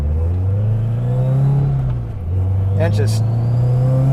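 Turbocharged Scion FR-S engine pulling hard under acceleration, a loud steady drone that dips briefly and then climbs again, with a person talking over it.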